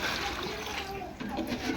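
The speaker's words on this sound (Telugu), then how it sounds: "కొన్ని వాటర్ వేసి నానబెడుతున్నాను." Water poured over rice-flake ingredients for uggani to soak, a short splashing pour heard close and moderately loud, with faint background noise and no talk.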